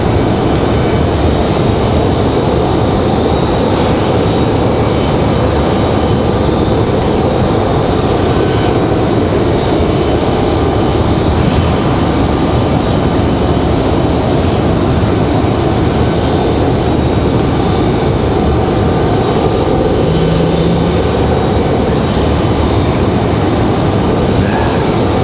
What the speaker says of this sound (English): JetBlue and Delta back to back